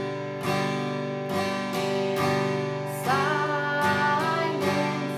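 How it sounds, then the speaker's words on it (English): An acoustic guitar strums the chords of Silent Night in a down, down, up, down pattern, with clear, close, ringing strokes recurring about every second, no voice. "So if we add in the chords with a strumming pattern, it will sound like this."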